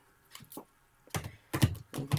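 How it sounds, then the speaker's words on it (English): A deck of tarot cards is shuffled by hand in a few quick bursts of riffling and tapping, close and fairly loud with short pauses between, no talk. "Let me just shuffle a little."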